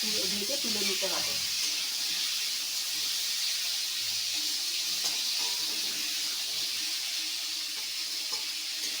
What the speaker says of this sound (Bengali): শিমটা আলুটা ভালো করে ভেজে তুলে নিতে হবে।